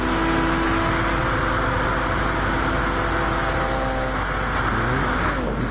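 A Jaguar race car in a racing video game drones with a steady, buzzing engine note, loud and constant, with a slight pitch wobble near the end.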